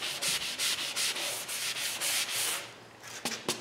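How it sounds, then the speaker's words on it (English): A sponge sanding block rubs along the edges of a chalk-painted wooden headboard in steady back-and-forth strokes, close and clear with no talking, ending in a couple of quick short scrapes. "I'm using just a sponge block, giving it a nice little sand and going along the edges"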